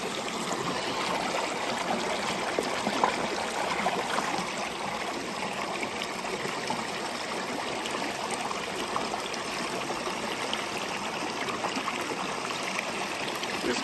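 Freshly dug crystals are rinsed in a stream, with steady, close running water and trickling filling the scene evenly from start to finish.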